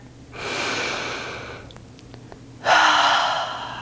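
Deep breaths during a yoga side-angle sequence: a long, airy inhale followed after a short pause by a louder exhale, both close and clear with no talking.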